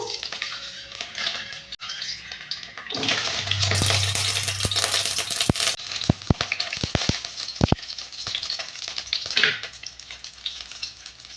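Peeled boiled eggs dropped into hot mustard oil set off a rising sputter and crackle, with sharp popping spits scattered through a continuous frying hiss that eases off toward the end.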